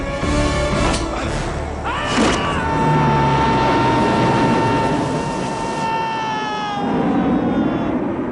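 Propeller aircraft in the fight sequence on the back of a plane in the 1987 James Bond film The Living Daylights: a loud, steady engine roar with wind rush and tonal drones, plus a few heavy thumps early on.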